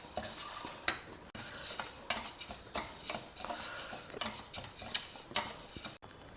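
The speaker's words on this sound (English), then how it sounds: "Roast the dals over a low flame." Moong and chana dal dry roasting over a low flame in a pan, stirred steadily: a quiet, close run of rapid scraping and rattling strokes with light ticking grains, going on without pause and with no voices.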